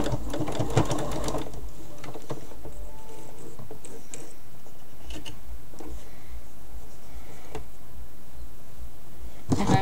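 A sewing machine running a straight stitch down fabric baby bibs, a close rapid burst of needle chatter at first, then softer intermittent ticks and clicks as the fabric is guided.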